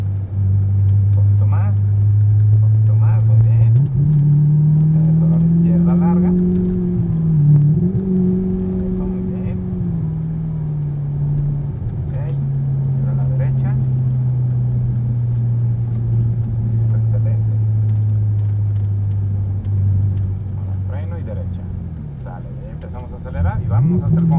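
A sports car driven on a Mexican exotic-car experience run, its engine droning loud and close as it accelerates, with a steady low rumble rising and falling slightly through gear changes while an instructor talks throughout.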